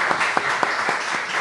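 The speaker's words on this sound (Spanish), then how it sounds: "Yo quiero que me le dé un aplauso al profe." People at a football press conference applaud the coach after a win, a brief burst of clapping with a few sharp, regularly spaced claps standing out from a softer spread of hands.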